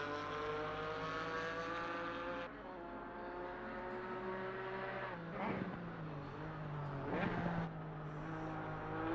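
In Assetto Corsa Competizione, a Porsche race car's engine drones in a sustained, faint tone, pitch dipping as the car slides, with brief bursts of tire and engine noise in the second half.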